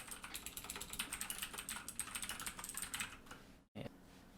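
Steady typing on a computer keyboard, a quick, even run of soft, close key clicks for about three seconds, then a brief pause and a final faint tap.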